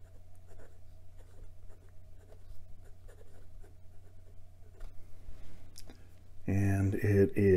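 Fine steel Schmidt nib on an Admok Deep Sea Blue acrylic fountain pen writing across Clairefontaine 90 gsm paper, giving soft, faint scratching and scattered light strokes over a low steady hum, before a voice begins talking near the end.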